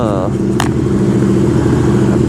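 Royal Enfield GT 650 motorcycle fitted with a Red Rooster aftermarket exhaust, idling with a steady, deep, loud rumble recorded right at the exhaust outlet, with a brief click near the start.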